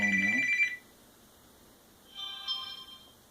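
A cell phone rings with an incoming call, two short electronic ring bursts separated by a pause, fairly quiet with no talk over it.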